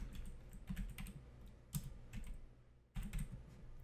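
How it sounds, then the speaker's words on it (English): Quick bursts of typing on a computer keyboard, close and fairly loud, with short pauses between flurries of keystrokes and no talking over them. "I always find I can't type when somebody is watching me."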